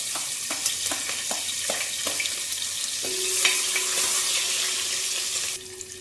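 Ginger and green chillies hit hot oil and fry with a steady, loud crackling sizzle, scattered with small pops and faint stirring clicks; the hiss swells midway and then eases off, with no talking.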